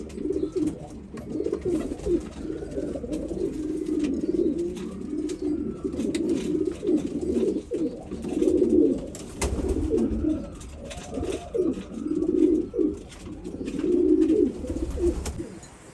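Pigeons in a loft coo steadily in low, rolling murmurs, several birds overlapping throughout, close and moderately loud with no one speaking.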